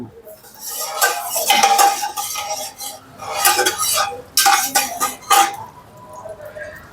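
A metal utensil scrapes and clatters in a pan while garlic is stir-fried for a homemade tomato soup, with bursts of busy clinking and scraping separated by brief pauses, close and fairly loud.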